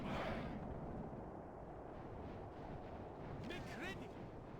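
Units fire a volley at skirmishers in a LOTR Remastered battle game: a faint, rumbling mass of musket-like gunfire crackles on and off in the distance, with a brief high whistling sound near the end.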